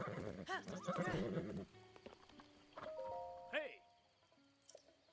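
A horse whinnies and its hooves clip-clop in Zelda: Breath of the Wild, the neighs rising and falling in short bursts among chiming game sounds, all fairly quiet.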